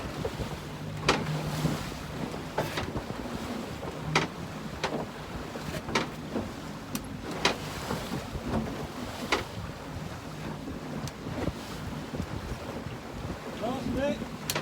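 Wind gusting across open sea aboard a fishing boat working drift nets for herring, a steady airy rush with water wash and scattered knocks and clatter of gear on deck.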